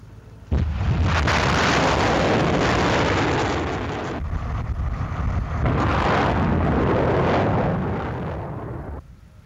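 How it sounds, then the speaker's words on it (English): American artillery missile launchers firing during the 2003 Iraq war: a sudden loud blast opens into a sustained, roaring rush that swells and dips twice, then fades near the end, heard at fairly close range. "the harsh weather makes no difference to the missile launchers of the American artillery"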